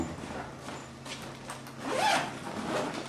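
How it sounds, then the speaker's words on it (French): A zipper runs along the flap of a gear bag, a quick rasping pull rising midway through, moderately close in a quiet room with no talking. "la fermeture éclair tout le long, ça évite l'infiltration de poussière, de liquide, même d'intrusion"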